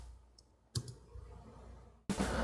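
Plastic neck joint on a Bandai HG 1/144 Psycho Gundam Mk-II model kit clicking through its ratchet positions, two quiet distinct clicks close up, the second sharper and louder.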